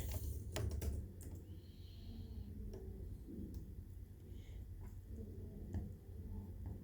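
Keystrokes on a computer keyboard during web development work, quiet and close, a short burst of clicks near the start followed by scattered taps over a steady low hum.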